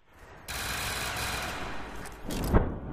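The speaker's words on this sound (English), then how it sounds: "I'll shoot them with wave gun" A wave gun fires in a video game on the Moon, giving a sustained crackling barrage of rapid shots. It starts abruptly, holds steady, then ends with a sharp louder burst.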